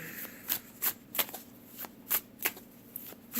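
Tarot cards being shuffled close by, with soft, fairly regular riffling bursts about every third of a second, quiet and with no talking.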